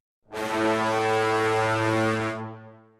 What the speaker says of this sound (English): I've got a second instance of this brass staccato instrument